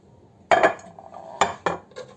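A few clinks and clatters of chicken chops being arranged in an oiled glass baking dish, in quick pairs separated by short pauses.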